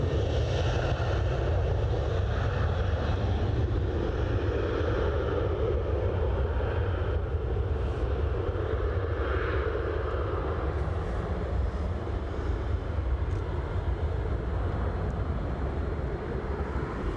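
A Jet2 passenger jet takes off with a continuous low, heavy engine roar that holds steady and fills the scene from a moderate distance.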